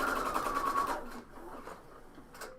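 A sewing machine stitches the edges of a coat pocket, a close, steady whirring run of rapid needle strokes that stops after about a second, followed by quiet handling.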